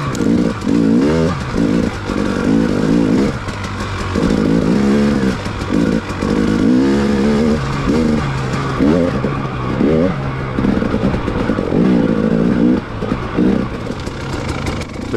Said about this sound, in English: Bouncing over these rocks seems to be what this XCW suspension was set up for, and it just kind of lugs and rolls its way on up